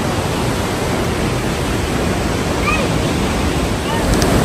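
Lower Falls, a waterfall on a Canadian hiking trail, roars as a steady, dense wash of broadband rushing water that fills the scene loudly and evenly from start to finish.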